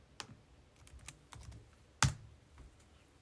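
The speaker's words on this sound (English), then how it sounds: "Why am I typing in the search bar?" Typing on a computer keyboard during an online chess game, a few scattered light key taps ending in one sharper, louder keystroke, close and with no voices.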